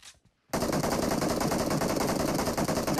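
Rapid automatic gunfire erupts in PUBG Mobile after a brief quiet moment, a loud continuous burst lasting to the end.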